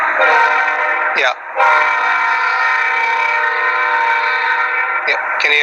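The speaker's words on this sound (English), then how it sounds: "I was waiting for train to pass by." A train rolls past close by and loud, its horn sounding in long sustained blasts with a brief break, over a steady rumble that fills the whole stretch.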